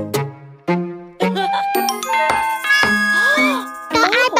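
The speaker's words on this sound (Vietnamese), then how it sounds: "Có ai bấm chuông kìa mẹ ơi." Two-tone ding-dong doorbell chimes ringing in a children's cartoon, loud and bright, repeating in a melodic chime sequence with a jingly tail, with no voices over it.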